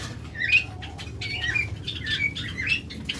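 Caged pet birds, including doves, kept for sale give repeated bright chirps and short calls at a steady, moderate loudness, with a low rumbling background underneath.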